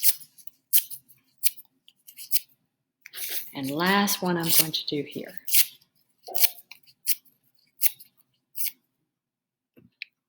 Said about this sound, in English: So I'm going to rip these up.